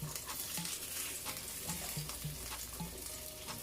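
Plantain frying in a pan for a Jamaican meal gives a steady, close crackling sizzle throughout, broken by a few light scrapes and clinks.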